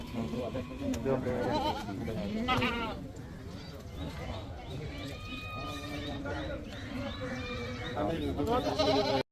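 Goats bleat repeatedly amid a noisy goat market, with people talking throughout and the calls rising over the chatter.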